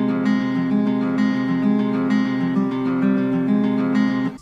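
Sampled guitar chord for a trap beat, every note struck at the same velocity, strummed repeatedly in a steady even rhythm with a sustained, flat-sounding tone, loud and alone.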